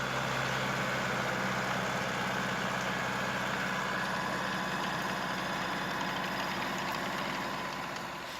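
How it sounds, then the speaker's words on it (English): Tractor-driven spading digger tilling soil for seedbed preparation, a steady heavy engine drone with a rhythmic mechanical churn layered over it, continuous and fairly loud, fading slightly at the very end. "This tool is attached to a trailer and is used as a digger for seedbed preparation."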